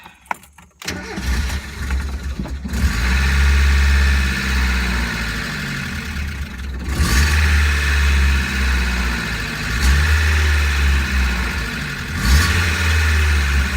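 A cheap Mazda Miata engine cranks and catches after a second, then runs loudly nearby, settling into a rough idle broken by several blips of the throttle.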